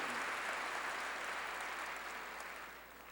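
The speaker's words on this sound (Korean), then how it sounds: "박수." A church congregation applauding during a pastor's sermon, a dense, even wash of clapping from many hands that fades slightly toward the end.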